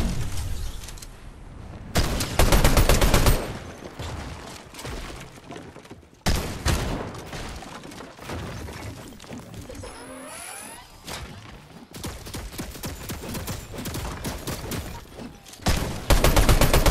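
Sentry turret fire in a video game, dense bursts of gunfire and booms rattling through a busy, loud battle scene with repeated heavy volleys and crashes.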